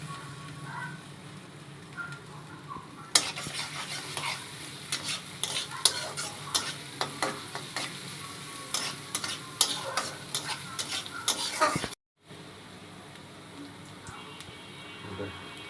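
Garlic is added to a pan of already fried onions: a steady sizzle under repeated scraping stir strokes, close and busy, then a brief cut before the frying continues more quietly.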